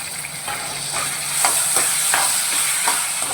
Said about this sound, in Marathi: आता मी ह्याच्यामध्ये टोमॅटो टाकून घेते टोमॅटो टाकून घेत पूर्ण विरघळवायचं आहे